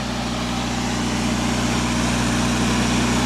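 Engine on a Genie lift running at a steady fast idle, a loud continuous drone with strong low-pitched harmonic hum, constant throughout with no voices.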